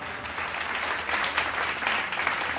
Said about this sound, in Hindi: सम्मान के योग्य है हमारे बड़े बुजुर्गों के लिए एक बार जोरदार तालियां